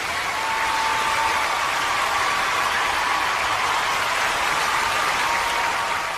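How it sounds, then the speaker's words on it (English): Sustained, even applause from a crowd on a children's radio show, loud and continuous with no breaks or voices over it. "Just listen to that applause."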